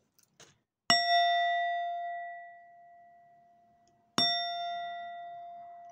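A small metal gong is struck twice about three seconds apart, each strike ringing out clearly with a bright, sustained tone that slowly decays. A faint tap comes just before the first strike.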